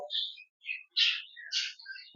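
Pet birds at a bird shop, including violets, make several short, bright chirps in separate bursts against near silence, close and fairly soft.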